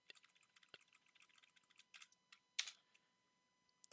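Keys on a computer keyboard are typed in a quick, uneven run of light clicks, with a few louder clacks near the end, faint and close in a quiet room.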